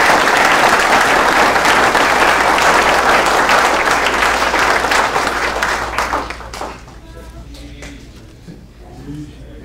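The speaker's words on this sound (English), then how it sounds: "Let's give him a round of applause." A crowd gives a loud, sustained round of applause at a fire department pinning ceremony for a promotion to lieutenant, then it dies away near the end and leaves a quieter room with faint sounds.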